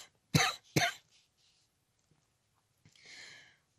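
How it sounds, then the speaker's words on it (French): A sick person coughs twice in quick succession, close and sharp, followed by near silence and a faint breathy sound toward the end. "ça fait mal quand je tousse"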